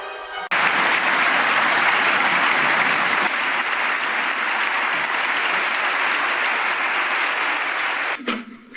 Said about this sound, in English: So this is how liberty dies. With thunderous applause.